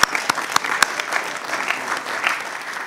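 Applause breaks out at a school board meeting, a steady burst of many hands clapping through the room with a few sharper claps standing out near the start.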